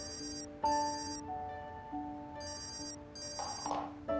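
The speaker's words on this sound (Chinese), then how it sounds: "我接个电话" A telephone rings with a repeating electronic tone in short bursts separated by brief pauses, fairly quiet with a faint clatter near the end; no one speaks.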